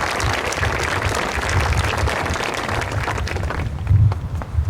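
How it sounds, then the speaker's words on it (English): Applause from an audience fills a graduation ceremony hall, a dense, steady wash of many hands clapping that carries on at full strength throughout. "they deserve a round of applause as well."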